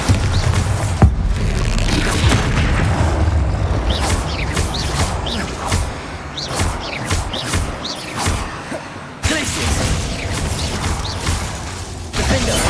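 Magic combat in the video game Hogwarts Legacy, with Bombarda explosion spells going off as repeated booming blasts and crackling impacts among mechanical clatter and whooshing effects, loud and busy throughout, with a brief sharp drop near the end.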